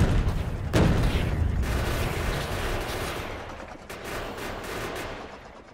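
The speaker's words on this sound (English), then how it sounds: "uranium rounds are so much better than the explosive things. Look at them! Just like proper rip through everything." Uranium rounds fire from turrets in the video game Factorio, a dense, continuous rattle of rapid gunfire that stays loud throughout with a sharp boom near the start.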